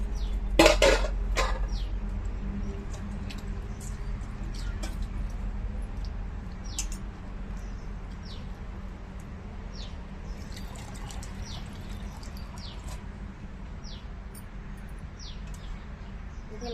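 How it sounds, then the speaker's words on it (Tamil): Manathakkali greens being rinsed in water in a home kitchen, with soft splashing and a few clinks of a vessel near the start, then steady quiet swishing and dripping, close and fairly faint. "தண்ணி ஊற்றி நல்லா க்ளீன் பண்ணிக்கலாம்"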